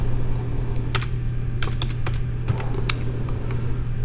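Quick, scattered keystrokes on a computer keyboard, a handful of close clicks and taps over a steady low electrical hum.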